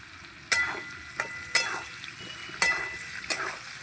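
Onion and potatoes fry together in a pan under a low sizzle, punctuated by four crisp spatula knocks and scrapes against the pan, heard up close with no talking.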